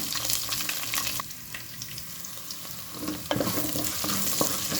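Onions with green chillies fry in a pan for mushroom curry, a loud steady sizzle that dips briefly and then returns, with stirring scrapes throughout and no speech.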